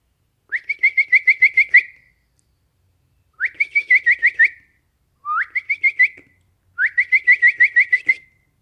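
A song thrush sings its first song of the day before dawn in four clear, close bursts, each a quick series of repeated bright whistled notes, separated by short silences.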